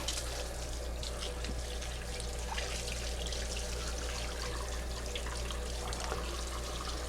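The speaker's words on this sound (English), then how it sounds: "I'm going to give him a quick rinse." Tap water runs steadily over a chili being rinsed in a kitchen sink, a soft continuous splashing trickle that holds at a faint, even level with no talk.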